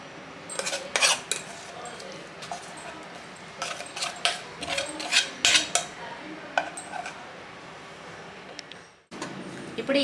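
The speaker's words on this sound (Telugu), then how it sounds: "ఇప్పుడు ఉడికించుకున్న చింతపండు గుజ్జును కూడా ఈ అన్నంలో వేసి కలుపుకోవాలి" Cooked tamarind pulp is stirred into rice with a metal spoon for tamarind rice (pulihora). Close, intermittent clinks and scrapes against the vessel come in uneven bursts, with no talking.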